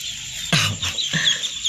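Close, brief day-old duckling calls and squawks, two sharp bursts with softer chatter between, against a quiet background.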